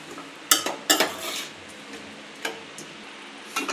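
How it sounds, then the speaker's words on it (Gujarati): A metal spoon stirs milk and grated coconut in a pan, giving a few sharp scraping clinks against the metal at irregular intervals over a low background hum, close and alone without talk. "સરસ રીતે મિક્સ કરી લેશું."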